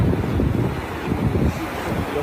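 Strong wind buffets the microphone on an ocean shore, a steady, loud roar with surf rumbling underneath, no voices.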